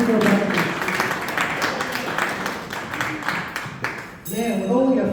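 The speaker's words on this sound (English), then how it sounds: "Big round of applause for Beverly" A crowd at a live magic show claps steadily for several seconds; the applause then thins out as a voice starts speaking over the last moments.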